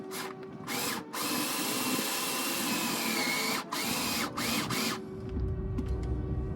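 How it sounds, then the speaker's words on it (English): A power drill whirs steadily for several seconds, pausing briefly a few times as it drives a screw in while fitting a Mk4 Supra front lip onto a Lexus SC400/SC300, then stops, leaving low rumbling noise. "I can now go ahead and just fully drill this guy in."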